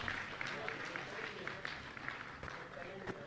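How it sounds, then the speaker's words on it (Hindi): An audience at a Jain religious gathering claps to welcome a trustee, a dense, steady patter of hands with a few sharper claps standing out and voices mixed in underneath. "जोरदार ताली बजाकर के उनका अभिनंदन करते हैं।"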